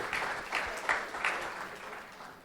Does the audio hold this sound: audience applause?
yes